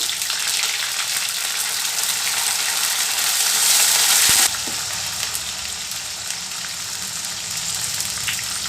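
Chillies and curry leaves crackle and sizzle in hot oil as a tempering for dosa. The hiss is loud, dense and continuous and close by, easing off slightly partway through.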